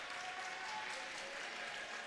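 A junior varsity team claps in a high school gym during the closing seconds of a boys basketball game, quiet and distant, a soft steady patter heard from below.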